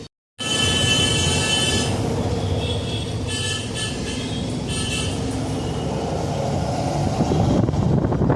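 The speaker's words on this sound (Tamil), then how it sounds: "பின்னாடி தான் இன்ஜின் இருக்குது இந்த பஸ்ஸில்." Riding inside city bus 29C, which has a rear-mounted engine, through city streets: a loud, steady engine rumble and road roar with tonal whine and hiss that persists throughout after an abrupt start.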